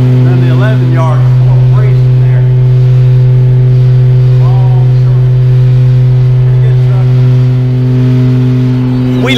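A new 13-yard packer garbage truck drives with a loud, steady, deep diesel drone heard from inside the cab, while someone talks over it.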